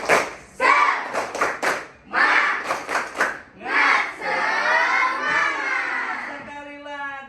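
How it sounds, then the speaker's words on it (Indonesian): A seated audience at a teacher certification event performs a rhythmic group spirit clap, bursts of patterned claps mixed with shouted chants and cheers, then talking follows at the end. "Yo, tepuk semangat."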